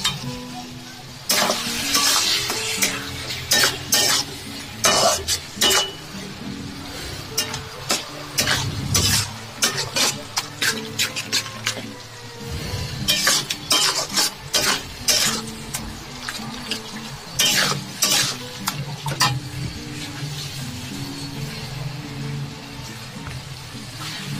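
Chicken being stir-fried with salt, turmeric, coriander powder and chili powder in a pan, with repeated close spatula scrapes, clinks against the metal and a background sizzle in an uneven rhythm, without speech.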